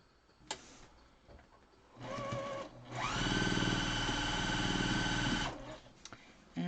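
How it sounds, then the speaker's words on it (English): A sewing machine joins Farmer's Wife quilt pieces: a few light handling clicks, then a brief rising whir and a steady, fairly loud mechanical hum for about two and a half seconds before it stops and small clicks return. "So now you're going to take this piece and you're going to sew it to here."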